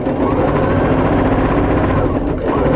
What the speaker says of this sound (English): we're going to sew this baby right in